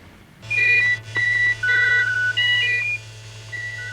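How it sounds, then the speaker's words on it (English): A string of electronic beeps and bleeps at shifting pitches from motorway traffic detector signals arriving at a computer at the Road Research Laboratory in 1969, coming in short bursts over a steady low hum. "Those noises you can hear are signals coming into this computer at the Road Research Laboratories from electronic"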